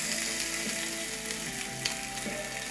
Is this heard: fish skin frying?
yes